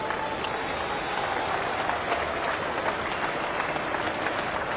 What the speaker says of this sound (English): Terrific reaction from the crowd and from Root.